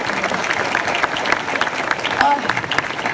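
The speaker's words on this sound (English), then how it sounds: "Let's clap for Kara" Audience at an Overwatch convention panel claps steadily, a dense, close wash of applause with crowd noise mixed in throughout.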